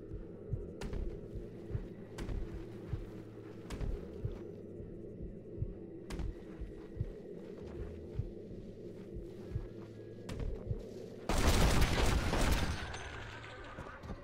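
Scattered gunshots in Red Dead Redemption: Undead Nightmare, sharp single cracks spaced a second or more apart over a low background hum, ending in a louder, denser burst of fire.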